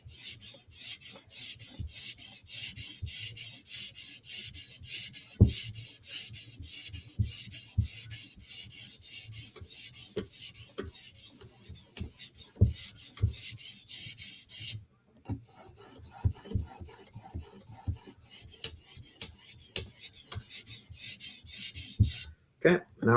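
A knife blade is worked across a grit sharpening stone to rebuild the burr: close, loud, rhythmic rasping strokes repeat rapidly back and forth, broken by a brief pause midway and an abrupt stop near the end.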